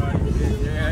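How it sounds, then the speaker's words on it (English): Night wind blows steadily across an outdoor microphone, a continuous low rumbling buffet through the whole second, with faint voice-like sound underneath. "Real breeze tonight, boy."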